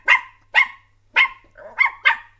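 A person imitates a small dog such as a Yorkshire or chihuahua, giving six sharp, yappy barks in a quick, uneven rhythm, loud and close with no other sound.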